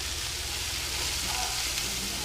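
Chicken for tacos sizzles steadily in a pan as it is stirred, with a broad, even hiss and no clear talk.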